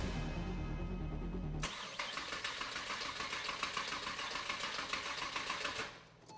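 A freshly refreshed Porsche Boxster engine cranks with a fast, rhythmic whirring chatter for several seconds after a loud noise cuts off, then the cranking stops abruptly, close up and without voices.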